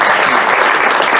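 An audience bursts into loud, close applause at a book presentation, with many hands clapping in a thick, continuous wash.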